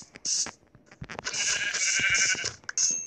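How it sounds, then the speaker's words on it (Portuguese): A sheep bleats loudly and close by in a long wavering cry, with short bleats and rustling around it and a person briefly speaking. "Nossa, ovelha."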